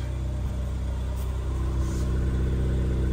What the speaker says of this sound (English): The exhaust isn't overly louder than standard